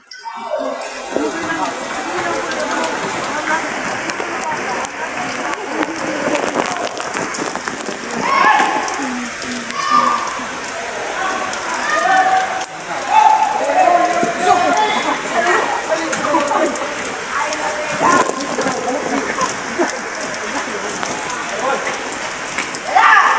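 Rain falls steadily on surfaces outdoors, making a continuous close hiss and patter that holds at an even level throughout.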